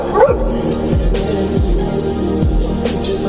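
A dog yips and whimpers in short high bursts close by, several quick excited barks over a low, steady background rumble.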